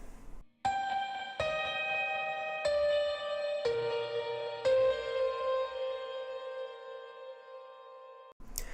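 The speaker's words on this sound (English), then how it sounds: "And here it is with the EQ." Solo piano track from a worship pop mix with a gentle equalizer adding attack: five crisp struck chords spaced about a second apart, each sustaining and slowly decaying, ending in a long ringing fade that stops abruptly.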